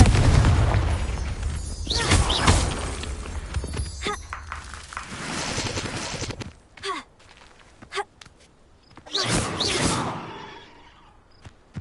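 Magical blast from a Confringo spell in an anime, a deep booming explosion at the start that fades into scattered thuds and rumbles, with brief vocal sounds in between.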